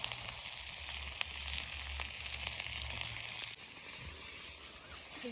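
Green chilies frying in mustard oil in a pan, a faint steady sizzle that dips briefly partway through before continuing, with a low hum beneath and no speech.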